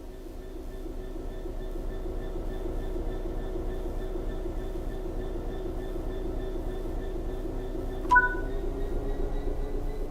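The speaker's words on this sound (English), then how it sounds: "Apply some throttle to get the train moving." A train engine in Train Sim World 4 hums steadily with low tonal drones as it begins to move under throttle, with a brief sharp metallic tone near the end.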